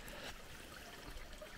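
Water trickles through a permaculture swale spillway outdoors, a faint, steady, soft flow with no voices.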